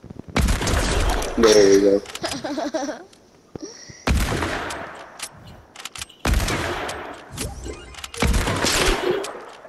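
Gunfire in Fortnite: several sharp shot bursts spread across the scene, loud and close, with speech in between and over them.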